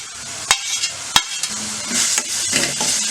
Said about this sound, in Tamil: இப்போ இந்த நெல்லிக்காயும் சேர்த்து நல்லா வதக்கிடுவோம்